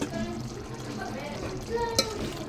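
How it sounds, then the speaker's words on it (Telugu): Mushroom curry being stirred in a pan, with soft scraping and wet shuffling sounds over a faint sizzle, ending in a sharp clink of the utensil against the pan. "ఒకసారి తిప్పుకుందాం మనం."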